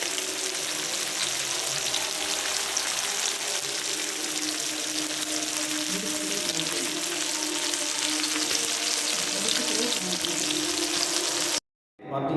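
Fresh fish frying in a pan in a home kitchen, a dense, continuous loud sizzle with faint stirring, cutting off abruptly just before the end.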